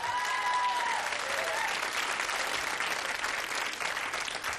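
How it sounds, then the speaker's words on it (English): Sustained studio audience applause on the 1992 British TV quiz show Blockbusters, a dense, steady wash of clapping at even loudness for the whole stretch, with a brief tonal sweep early on. "Another round of applause."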